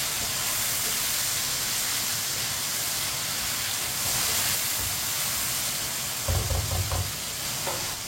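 Chopped ridge gourd (torai) fries in a hot pan while a spoon stirs it, giving a steady close sizzle with scraping and clinks of the spoon near the end.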